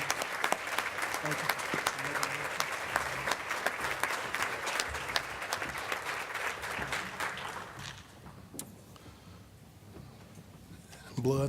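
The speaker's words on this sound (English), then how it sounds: "give a round of applause for this team putting this conference on" Audience applause at a keynote breakfast honoring the conference team, a dense sustained clapping that fills the room for about eight seconds, then fades to scattered claps and quiet.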